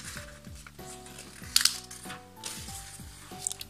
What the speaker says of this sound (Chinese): 另外两个边对折。